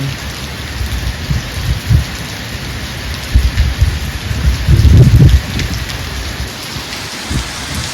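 Heavy rain pours steadily on surfaces around a house in Sri Lanka, loud and close, with low rumbles of thunder swelling midway under the constant hiss.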